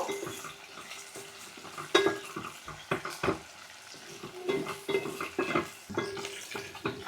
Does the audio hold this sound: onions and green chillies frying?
yes